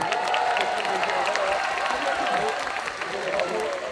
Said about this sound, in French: Donc Chanel, on peut l'applaudir aussi.